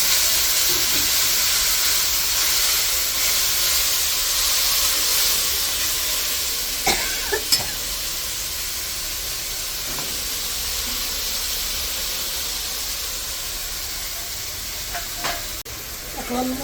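Bengali fish curry spice paste frying in a pan with a little water added, giving a steady soft sizzle and hiss throughout with a few brief clinks of stirring, no talking.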